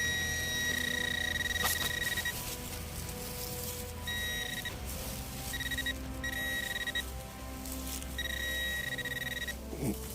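Faint metal detector signal beeps sound in short repeated bursts, with steady tones starting and stopping over a low background hum, in a forest.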